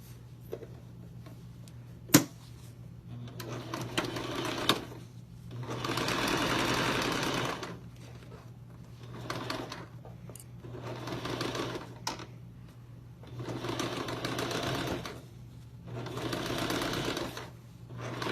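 A sewing machine sews a zipper pouch, running in several distinct bursts separated by quiet pauses with small clicks and handling noises, close by and without speech.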